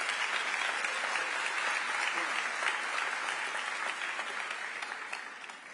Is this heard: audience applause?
yes